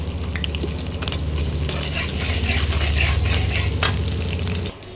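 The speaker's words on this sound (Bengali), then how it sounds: "ওধারে পেঁয়াজটা আমার ভাজা হোক" Chopped onion frying in hot oil with cardamom, cloves and bay leaves, a loud continuous close sizzle with small crackles that stops abruptly near the end, no voices.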